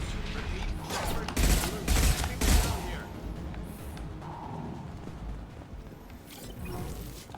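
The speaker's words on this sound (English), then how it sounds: "Shoot the Batarian in the foot!" Gunfire in the video game Mass Effect 2, several bursts of shots with thumps and mechanical clatter, mixed with talk and game noise throughout.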